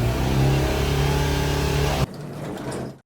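A Fiat Albea 1.4 with a crankshaft and camshaft position sensor fault revs hard at full throttle. A loud, steady engine roar holds for about two seconds, then drops abruptly to a thinner, quieter sound before it cuts out.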